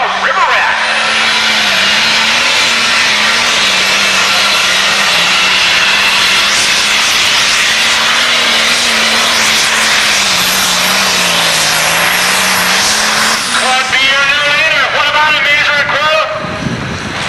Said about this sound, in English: This is a 6030 John Deere.